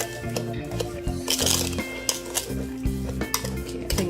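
A homemade face and neck sugar scrub is mixed in a bowl, with repeated scraping and clinking of a utensil against the bowl in an uneven rhythm, close and moderately loud.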